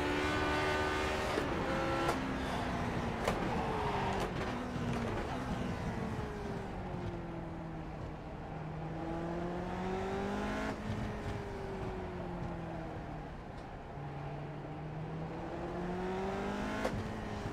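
A Lotus 49 race car in a VR racing sim at the Mid-Ohio bike course, its engine note rising and falling steadily through gear changes and part-throttle corners, loud and continuous with sharp shift blips.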